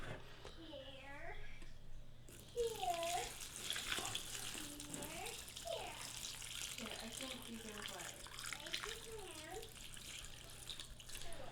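Water is poured into a houseplant container filled with a mix of peat moss and potting soil, four cups in all. A steady trickling and splashing runs under a voice talking throughout.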